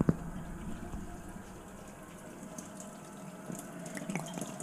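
About a litre of water pours steadily into a pot of Bosnian stew, a soft continuous liquid rush at low level, with no voices.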